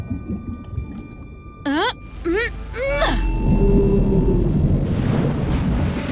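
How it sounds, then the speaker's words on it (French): A cartoon gray whale in a children's educational show gives several squealing, sliding calls, then blows through its blowhole in a loud, sustained whooshing rush of air and spray that lasts to the end. "J'ai fait peur à une baleine grise et elle t'a soufflé par son évent."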